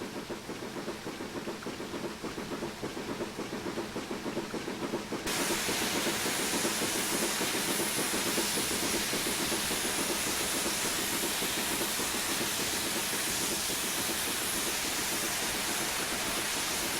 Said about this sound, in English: we've got a bit of steam action going on there